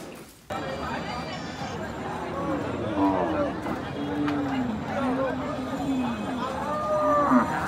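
Cattle moo repeatedly at a busy livestock market before the Eid sacrifice, long low calls rising over a crowd's babble, with people talking nearby and an occasional shuffle of hooves.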